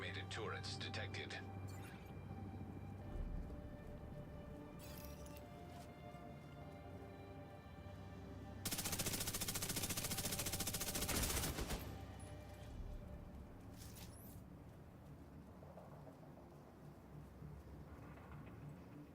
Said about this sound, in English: Automated turrets detected.